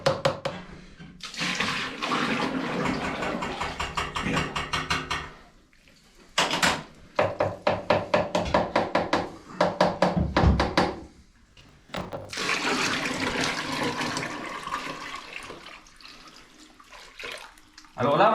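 Water running into a cooking pot as it is rinsed in a kitchen, loud splashing and gushing in long stretches broken by short pauses and clanks of the pot, with a voice speaking now and then.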